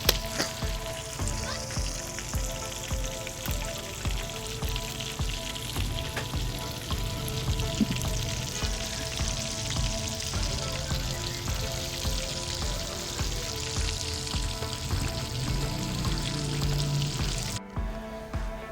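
Chira fish pieces deep frying in hot ghee, a steady dense sizzle and crackle of bubbling fat that holds evenly throughout, close and fairly loud with no voices.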